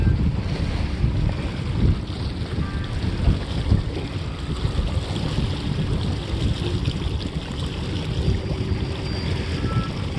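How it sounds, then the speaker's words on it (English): A 1986 Catalina 22 sailboat under sail on a reservoir, with steady wind buffeting the microphone and water rushing along the hull throughout, loud and continuous without talk. "This 1986 Catalina 22 is just a pleasure to sail."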